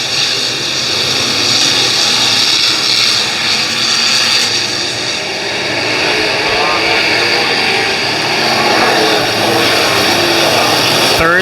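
Race car engines roar around a track during the Don Russ Memorial race, a loud continuous drone of several engines that swells and fades as cars pass.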